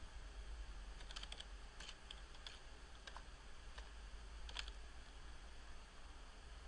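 Light clicking keystrokes on a computer keyboard as a folder name is typed, a few quick irregular taps spread over several seconds, faint and close against a steady low hum.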